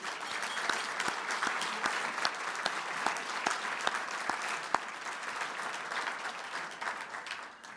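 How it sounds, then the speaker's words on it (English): Steady audience applause fills a gala anniversary evening, dense clapping from a large crowd sustained throughout and tapering slightly near the end. "if we give all them a round of applause,"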